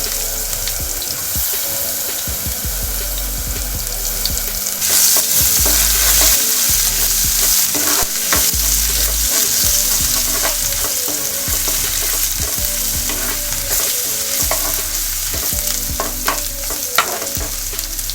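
Ginger, garlic and green chili paste frying in oil in a pan, a loud continuous sizzle with stirring scrapes and periodic clatter, running steadily throughout.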